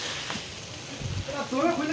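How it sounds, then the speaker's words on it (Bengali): Mushrooms frying in a pan for a curry while being stirred, a close crackling sizzle with scraping strokes of a spoon and a few louder bursts near the end. "খুব সুন্দর করে নাড়িয়ে চাড়িয়ে একটু ভেজে নেব সুন্দর করে"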